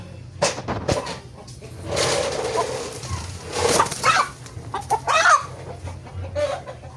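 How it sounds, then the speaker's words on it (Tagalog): Joloano breed chickens cluck and squawk in bursts, fairly close by, with a rooster's call rising briefly amid rustling outdoor background noise. "Tandang."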